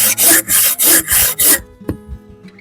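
Buck saw cutting through firewood logs, five loud, rhythmic rasping strokes in quick succession, close up, then stopping with a single wooden knock and quiet afterward, with no talking.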